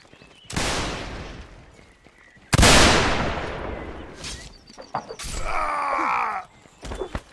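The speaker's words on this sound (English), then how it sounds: "what was that explosion?" Two heavy, booming blasts ring out seconds apart in the video game North and South, followed by scattered clanks, crackles and a distorted groaning cry amid chaotic battle noise.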